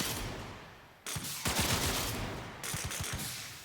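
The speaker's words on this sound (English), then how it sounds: "you shoot, after a second explodes" In Warframe, the Zakti Prime gun fires several quick, sharp shots in two short bursts. Delayed pops and blasts follow over a steady game background hum.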